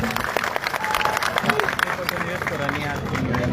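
A crowd at a parade ground rally applauds the Chief Minister with steady, continuous clapping and cheering, a dense roar heard close with voices mixed through it.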